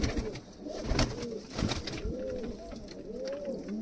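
Racing pigeons coo in soft, rolling repeated calls nearby, overlapping one another, with a few thumps and flutters in between.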